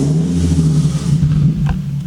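Infiniti G37 with a custom exhaust driving slowly, giving a loud, steady, deep low exhaust drone close by with slight throttle changes.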